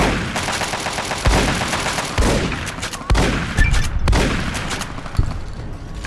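Rapid automatic gunfire aimed at a Super Mutant in Fallout, a loud, close burst of shots with several sharper heavy cracks along the way and no talking.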